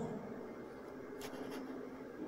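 Pencil drawing a line along a ruler while measuring a geometry segment, a soft steady scratching that carries on for a couple of seconds, with two faint higher ticks in the middle.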